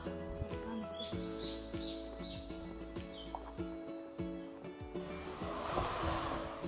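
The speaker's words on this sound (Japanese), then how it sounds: "鳥の鳴き声がいい感じです。" Birds chirp in a quiet village in Nakijin, northern Okinawa: a run of bright, quick tweets comes in a cluster early on, over a low, steady hum and soft background noise.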